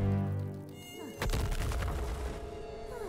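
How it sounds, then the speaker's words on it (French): Cartoon insect buzzing in an animated series, a steady whining drone with a sharp impact partway through, then the buzz continues, with no talking. "Va lui bourdonner dans les oreilles."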